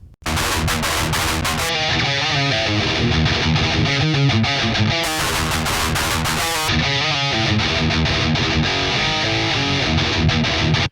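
Heavily distorted electric guitar run through a Celestion digital cabinet impulse response, a loud, dense riff of chugging palm-muted chords and sustained notes that carries on steadily for about eleven seconds without talking.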